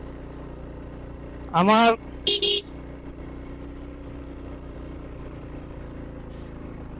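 A vehicle engine hums steadily in second gear as it climbs a wet hill road toward Sajek Valley. Two short horn toots sound over it early, and a person talks briefly.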